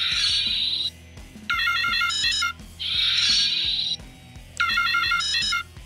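A Power Rangers SPD action figure toy gives off electronic ringtone-like beeping and chirping in two repeating bursts, loud and close, with a faint low rhythmic backing and no talk.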